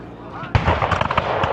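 A loud boom at a battle reenactment, heard from across a valley. One sudden heavy blast is followed by a rolling echo and crackle that fade over the rest of the clip.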